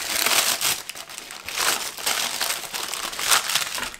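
Parchment baking paper being scrunched up in a kitchen, several seconds of close, loud, continuous crinkling and crushing with no talk.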